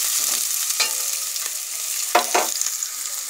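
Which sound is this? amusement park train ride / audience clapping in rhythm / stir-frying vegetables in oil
stir-frying vegetables in oil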